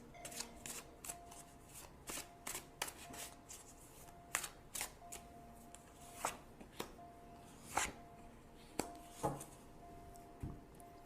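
Tarot cards being shuffled by hand, a long run of soft riffling and sharp flicking slaps at an irregular rhythm, close and fairly quiet, with no talking.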